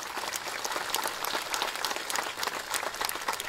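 An audience applauds a band's clarinet player with steady, moderately loud clapping from many hands, continuous and even throughout.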